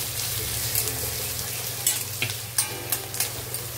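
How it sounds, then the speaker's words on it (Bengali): Onions, four large ones, fry in a pan until lightly browned for chicken curry, giving a close, steady sizzle with a few distinct scraping stirs near the end. "দিয়ে পেঁয়াজগুলো হালকা ব্রাউন করে ভাজবো প্রথম।"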